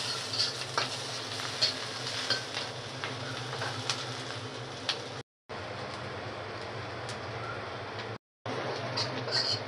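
Chopped onions and green chilies sizzle steadily in a pan while being stirred, with intermittent scraping and two short breaks of silence.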